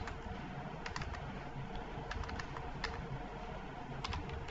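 Typing on a computer keyboard, irregular quiet key clicks in short runs over a faint steady background hum.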